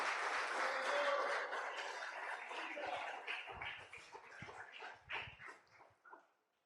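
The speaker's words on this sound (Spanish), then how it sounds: "Dale un aplauso al Señor." A church congregation applauds during a Spanish-language sermon, starting as a dense, steady wash of clapping that thins into scattered, uneven claps and fades out over several seconds.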